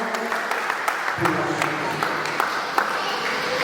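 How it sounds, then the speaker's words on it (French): A church congregation at a women's conference in Forest Guinea applauds for the Lord, a steady wash of many hands clapping close by, with a voice speaking over part of it. "Applaudissons pour le Seigneur"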